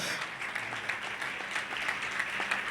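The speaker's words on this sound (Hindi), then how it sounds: "और ताली बजानी तो जोर से बजाओ।" Congregation clapping during a Sunday church service, steady dense applause with a fairly even level, moderately distant and without talk.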